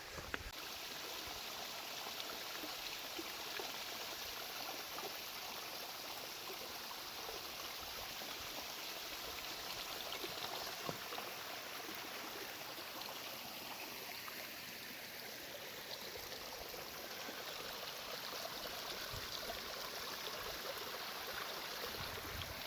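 A mountain stream cascades in the North Cascades, a steady broad rushing roar of falling water that fills the scene continuously at moderate level with no talk.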